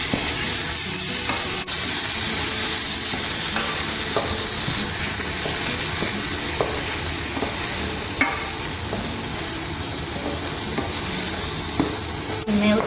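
Tomato puree frying with onions in a pan, a loud, bright, continuous sizzle with occasional stirring scrapes and clicks, close up and without talk.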